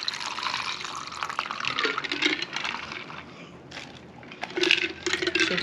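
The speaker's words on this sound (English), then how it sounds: "So go ahead and pour this into your cup." Watermelon candy cocktail liquid pours into a cup in a steady, close splashing stream that runs for several seconds, briefly eases, then surges again toward the end.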